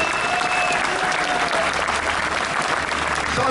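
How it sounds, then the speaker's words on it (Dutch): Crowd at a show jumping event applauding, dense continuous clapping heard from among the audience, steady and fairly loud for a few seconds. "Geef haar ook een goede applaus, beste mensen."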